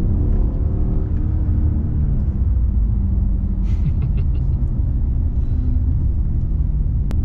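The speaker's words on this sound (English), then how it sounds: "S63, you can then hear it rumble." A 2014 Mercedes-Benz S63 AMG V8 accelerates in comfort mode, giving a deep, steady low engine rumble heard from inside the cabin with road noise and no talking.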